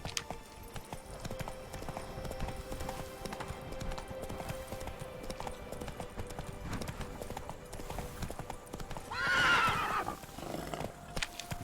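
Roach, the horse in The Witcher 3, clip-clops in a steady hoofbeat rhythm throughout, with a loud whinnying neigh rising near the end over game ambience.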